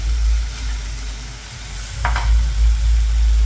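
Chili, ginger, garlic and tomato paste fries with reddened onions in a pan over a medium gas flame, a steady close hiss with a brief louder spatter burst partway through, and no voices.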